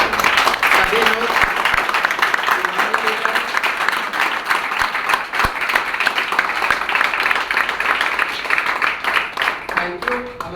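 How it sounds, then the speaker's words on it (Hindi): A meeting hall audience stands and claps to welcome new guests, a loud, continuous wash of many hands clapping for about ten seconds, with brief voices and cheers mixed in and a slight fade at the end. "पुराने लीडर्स हमारे खड़े होकर हमारे नए मेहमानों का तालियों के साथ स्वागत करेंगे"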